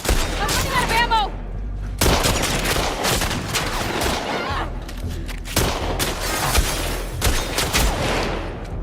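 Video game gunfire crackles in repeated close bursts of rapid shots and booms, with pauses between volleys and voices shouting over the firefight.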